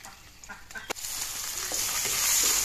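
Okra and potato pieces drop into hot oil in a wok and burst into a loud, continuous sizzle that swells and stays steady, heard close up with a few light clatters at the start.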